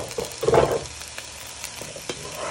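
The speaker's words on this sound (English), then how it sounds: "you're going to add in your carrots and parsnips to your pan. Give them a little stir." Carrots and parsnips stirred into a hot pan with onions and courgettes for a winter vegetable soup, giving a soft sizzle with a brief louder scraping stir near the start and light clicks after.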